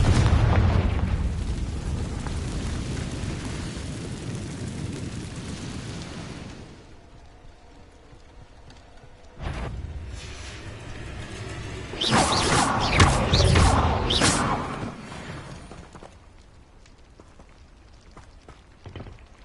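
Spell blasts from the Confringo fire spell in Hogwarts Legacy: a loud, sustained rumbling barrage at the start, a quieter lull, then a fresh burst of crackling, bright impacts that fade out.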